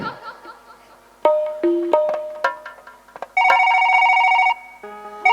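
A phone's electronic ringtone plays a bright melodic tune, starting and stopping in bursts with short gaps, close and fairly loud, with no talking.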